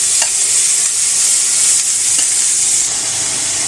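Onion fries in hot oil in a pan for kalojira vorta, a steady bright sizzle with faint stirring scrapes, continuous and close with no talking.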